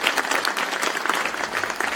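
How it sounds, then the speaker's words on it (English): Guests at a K9s For Warriors service-dog graduation ceremony applaud a family, a brief, even patter of many hands heard at moderate distance. "please, a round of applause for the incredible Zelinsky family"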